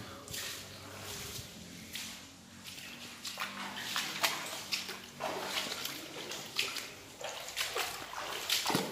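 Water splashes and sloshes inside a flooded tunnel in Munnar, with irregular close splatters and wading sounds echoing continuously over several seconds.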